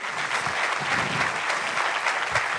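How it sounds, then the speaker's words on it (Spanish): A church congregation claps loudly and steadily, a dense, continuous wash of applause filling the room throughout. "Dale ese aplauso fuerte al Señor."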